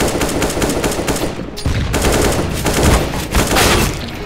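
Continuous rapid automatic gunfire in a CS:GO match, loud and dense, with a brief dip around the middle before the shooting resumes and keeps going steadily.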